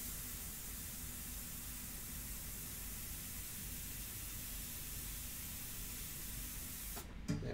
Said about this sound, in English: airbrushes are always unpredictable in your initial sprays